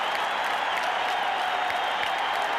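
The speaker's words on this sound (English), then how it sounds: "And the crowd is standing and still roaring." A packed baseball stadium crowd roaring after a home run in the 1986 NLCS Game 6, Mets at Astros, a dense, sustained wash of cheering and clapping that holds steady and loud for the whole stretch.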